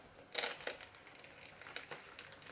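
Decorative gift wrapping paper being slowly and carefully opened, giving soft crinkling and crumpling rustles in short bursts, close and fairly quiet, with no talking.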